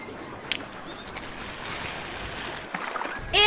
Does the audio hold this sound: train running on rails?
no